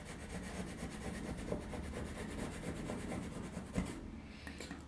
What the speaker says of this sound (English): And I'll rub it up against the rail.